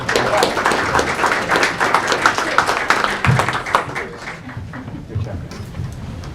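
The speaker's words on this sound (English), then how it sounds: "we'll give her a round of applause anyway." An audience gives a round of applause at a school board of education meeting, with clapping and crowd noise fairly loud at first, then thinning and fading toward the end.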